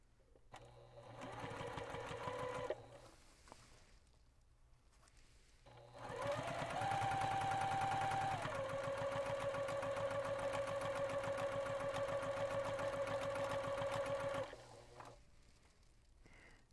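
A sewing machine stitches fabric close by in two bursts, a short run and then a longer steady whirring, rapid needle chatter with a rising motor whine, separated by a quiet pause.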